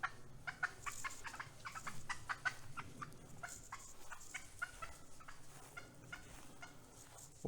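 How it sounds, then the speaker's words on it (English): Wild turkeys gobble in a forest, many fast throaty gobbles coming one after another and overlapping, moderately close against low background noise. "Wild turkeys out here."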